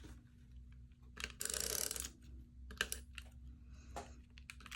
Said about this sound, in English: we're going to tape this down first with our tape runner